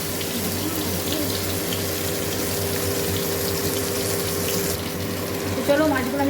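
Water gushes steadily from a pump into a basin in a home kitchen area, a continuous close rushing splash with a low hum underneath, and a voice briefly speaks near the end.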